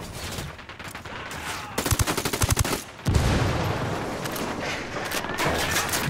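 Automatic gunfire rattles in Ghost Recon Wildlands, with rapid rhythmic bursts of machine-gun fire and a sharp blast amid a dense, loud battle din.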